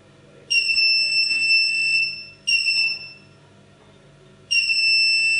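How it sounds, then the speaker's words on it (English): A CCTV DVR connected to a monitor emits three steady high-pitched electronic beeps, each lasting about one to two seconds with short gaps, loud and close over a low background hum. "You'll also hear a certain beep noise when the connection is on. That's coming from the DVR."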